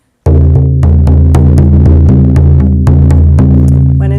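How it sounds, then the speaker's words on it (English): A steady, rapid shamanic drum beat pounds evenly and loudly, each hit booming with a low resonant hum that sustains under the repeating strokes. "So my drum beat will sound like this."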